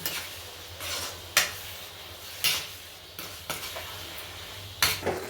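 Carrot halwa with fried dry fruits is stirred and fried in a pan. Repeated close spoon scrapes against the metal sit over a steady low sizzle, with sharper clinks every second or so.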